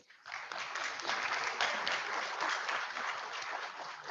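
Audience applause at a city council meeting honoring Martin Luther King Jr., a steady wash of many hands clapping that swells quickly and holds at an even level, heard from a distance in a large room.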